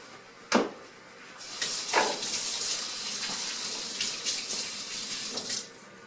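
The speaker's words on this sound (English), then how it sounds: "let me go wash my hands." A kitchen faucet runs steadily while hands are washed beneath it, the water hissing and splashing with a few louder knocks and splashes, close and alone with no talk.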